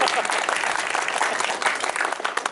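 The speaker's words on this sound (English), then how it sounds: "Usually the applause comes in at that point." Dense, steady applause from a convention panel audience, filling the whole stretch with loud, continuous clapping and a faint crowd murmur, no speech over it.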